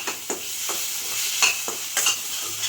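Pasta coated in ketchup is stirred and sautéed in a pan, with a soft constant sizzle broken by a few distinct scraping strokes of the spoon, close and fairly quiet.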